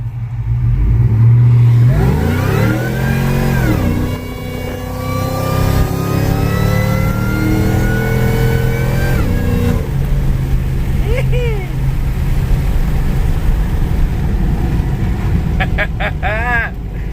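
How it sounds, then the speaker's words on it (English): A Ford SVT Lightning pickup on 17x11 Centerline qualifier wheels does a burnout tire test, its engine revving hard and loud in rising sweeps before settling into a sustained roar, with a voice shouting over it near the end. "we're gonna go test it out, guys, see if this thing burns them out"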